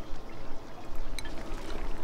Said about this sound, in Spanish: ¿Por qué tenemos agua aquí?